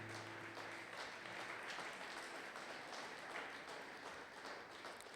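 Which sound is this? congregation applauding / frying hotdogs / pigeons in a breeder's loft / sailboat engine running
congregation applauding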